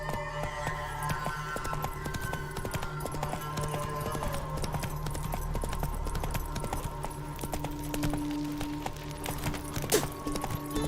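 Hooves clip-clop steadily as a horse gallops in The Witcher 3: Wild Hunt, a rhythmic run over continuous game music and ambience, with a brief whinny-like accent near the end.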